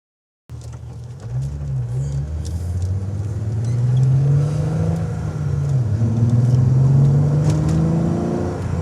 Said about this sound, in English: Take it out on a road test now, give it a drive, see how it goes.